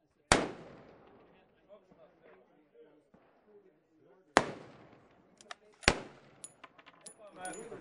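Bolt-action rifle shots at an outdoor shooting range: three sharp, loud cracks spaced several seconds apart, each with a short echoing tail, between quieter stretches with faint background talk.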